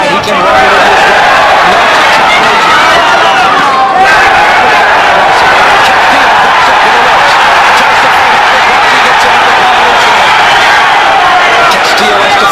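A packed boxing arena crowd roars continuously at Arnulfo Castillo versus Julien Lorcy, a loud, dense wall of cheering and shouting filling the whole stretch without letup.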